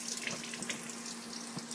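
Water running from a tap into a sink, a steady close rushing stream that holds at an even level with no one talking.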